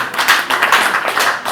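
Brief burst of audience clapping at a graduation ceremony for a natural chemotherapeutics research institute, a short, fairly close patter of hands over about a second and a half.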